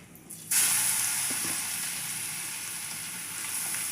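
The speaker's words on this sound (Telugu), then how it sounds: "ఈ తురిమిన క్యారెట్లు ఈ నెయ్యిలో వేసుకొని నీట్గా ఫ్రై చేసుకున్నాం" Grated carrots sizzle in hot ghee in a pan, a steady close frying hiss that starts abruptly and then holds evenly with no one speaking.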